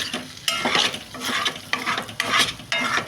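Potato fry with salt is stirred in a pan, giving repeated loud close scrapes in bursts over a continuous sizzle, with no speech.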